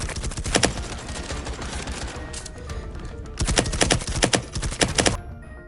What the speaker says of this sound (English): poking your head slightly around a corner to then blind fire down a hallway to keep the enemy distracted